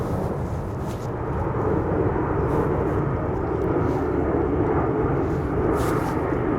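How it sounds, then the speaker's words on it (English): A passenger airplane flying low over woodland near Heathrow in London, a loud, sustained roaring engine rumble that holds steady throughout, with no talk. "Airplanes,"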